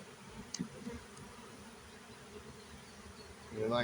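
Honey bees buzz steadily around an opened hive after a honey pull, a close, continuous drone with a few sharper passes near the start and a louder rush at the end.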